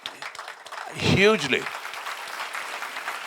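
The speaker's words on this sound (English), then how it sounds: "He should be applauded" An audience applauds briefly at a talk event with a cricketer, a short swell of clapping that rises and fades in about a second, mixed with a speaking voice.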